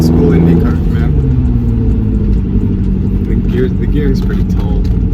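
A 1997 Lotus Esprit V8 twin-turbo engine drones loudly from inside the moving car, holding a steady, high-revving tone throughout while voices talk faintly over it.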